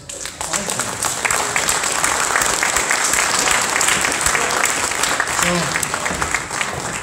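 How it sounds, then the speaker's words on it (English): A large crowd applauds steadily with dense, loud clapping that carries on the whole time, with a few cheers rising from the audience. "let's have a round of applause"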